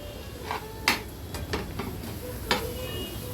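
Curry leaves and ginger paste frying in hot oil in a pan for fish fry, a soft steady sizzle with several sharp clinks and scrapes of a spoon stirring against the vessel.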